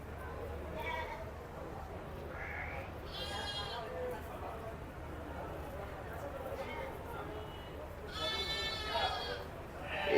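Goats, including a large Totapuri goat, bleat several times at a livestock fair while being fed, one nearby and others a little farther off, with a louder burst of bleating toward the end over quiet background noise.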